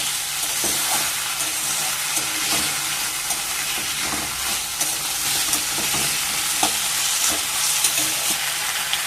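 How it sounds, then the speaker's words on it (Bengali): Poppy seed paste thinned with a little water fries in a pan. A loud, constant sizzle and hiss runs close up with repeated stirring scrapes, and nobody speaks. "এবার পোস্তটা দিয়ে একটু ভাজা ভাজা করে নেব আমি"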